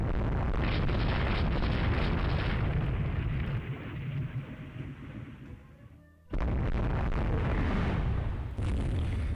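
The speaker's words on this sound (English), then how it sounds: "that is, I believe, a British carrier that we're just putting under 15-inch gunfire" Naval gunfire from 15-inch guns in the naval strategy video game Rule the Waves 3, a dense roaring barrage of booming explosions that fades midway, cuts out to near silence briefly, then slams back in loud and continuous.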